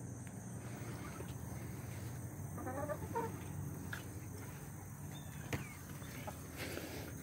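Chickens cluck softly and intermittently over a steady low background hum, with a brief burst of squawking partway through.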